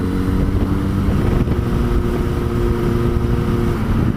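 Yamaha FZ6 600 motorcycle cruising at steady speed, a continuous engine drone mixed with road and wind rumble, close and loud with no talking.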